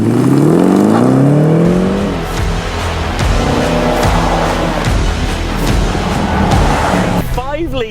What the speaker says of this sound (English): 5-litre V8 supercharged SUV